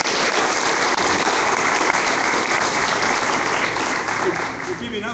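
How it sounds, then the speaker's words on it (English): Dense, sustained clapping from a large crowd, loud and steady throughout, tapering slightly near the end. "he deserves a round of applause even before we go out and talk"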